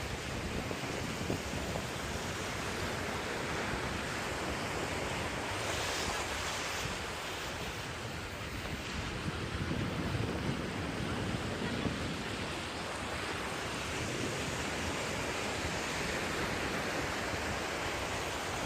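Sea waves breaking on the shore at a beach near Amsterdam, a steady full roar of surf with wind buffeting the microphone throughout, no voices.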